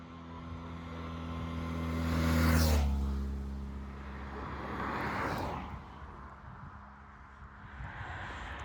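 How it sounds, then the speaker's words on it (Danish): Cars driving along a road in the countryside near Heimburg, Germany, heard outdoors as a vehicle approaches and passes with a low engine hum that swells and fades, followed by another softer passing. "der er biler på den"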